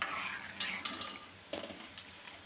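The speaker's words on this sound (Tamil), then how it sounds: "இப்போ இதை வந்து ஒரு தடவை நல்லா கலந்து விட்டுடலாம்." A spoon scrapes and clinks around inside a pot of an okra dish in several uneven strokes, close up, with no talking.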